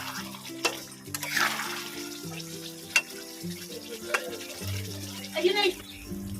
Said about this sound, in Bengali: আমি ভেজে রাখা পনিরগুলো দিয়ে দেবো আর একটু ভালো করে কষিয়ে নেব